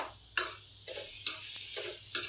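Papaya for achar being sautéed and stirred in a pan, with a soft steady sizzle broken by about four distinct scraping stir strokes at regular intervals, close and fairly quiet.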